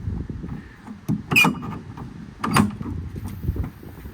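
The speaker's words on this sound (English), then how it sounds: "All the doors close, latch, lock, and seal as they should." Metal bin doors on the service bed of a 2019 Ford F-550 mechanics truck slam shut and latch, two sharp bangs about a second apart over quiet mechanical rattling.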